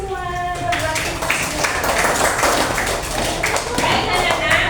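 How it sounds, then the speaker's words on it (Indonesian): A class of children claps hands together in a classroom: a burst of loose, overlapping claps follows a brief voice and continues for several seconds, with voices mixed in. "tepuk tangan semua."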